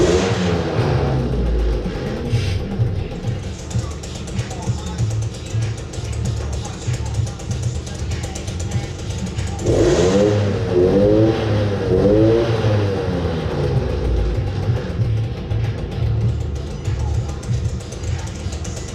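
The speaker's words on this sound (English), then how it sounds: "the tick over there, you can see the wheels are just spinning" A Suzuki LT50 quad idles with its wheels spinning freely, a steady small-engine buzz that wavers and swells in pitch, with someone talking over it.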